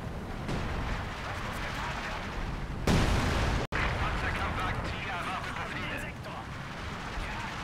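Artillery fire in a World War tank video game: a constant rumbling battlefield bed with a sharp, loud blast near the middle, followed by a brief cut to silence.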